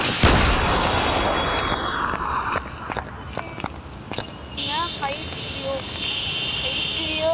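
Video game gunfire: a loud sharp shot up front, then several quicker cracks and bursts mixed with game effects, under a talking voice.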